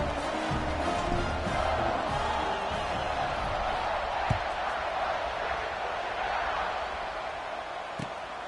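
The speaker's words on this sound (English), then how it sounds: "Do you think this crowd's going to get loud when their defense comes on the field?" A stadium crowd in the College Football 26 video game keeps up a steady, loud roar for the whole stretch, with a few sharp thuds and what may be commentary voices mixed in.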